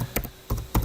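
Three quick, crisp clicks on a computer keyboard, spaced apart as a web address is typed, close and fairly quiet.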